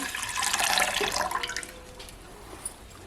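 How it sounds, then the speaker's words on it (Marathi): Water is poured from a copper pot into a cooking pot set on a village wood-fired stove, a brief splashing gush near the start that tapers into trickles and drips. "टोप ठेवलाय चुलीवर पाणी घालून घेते एक तांबे पाणी घालते"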